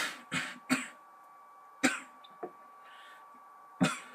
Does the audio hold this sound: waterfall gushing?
no